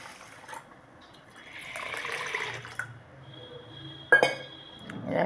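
Water poured into a glass or bowl over moong and urad dal to soak them, heard as soft splashing and trickling with a few glassy clinks, close and fairly quiet, with no talking.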